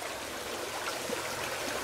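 A creek at a camp flows steadily, a continuous close trickling and gurgling hiss with no voices over it.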